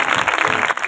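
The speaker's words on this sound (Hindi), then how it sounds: "जोर से ताली बजा" Loud, dense clapping from a church congregation at a sermon, a continuous burst of many hands that briefly thins near the end without anyone speaking.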